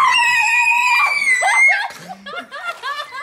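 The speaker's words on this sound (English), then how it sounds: "simultaneously screamed as loud as they possibly could" Two girls scream together as loud as they can beside an ice-cold pool, a long sustained high shriek that breaks into shorter yelps and giggly cries near the end.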